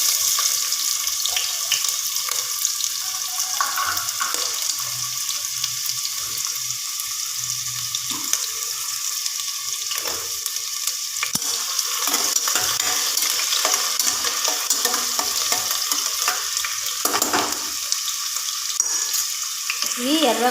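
Chopped onions frying in hot oil, a constant bright sizzle close by with intermittent stirring clatter throughout.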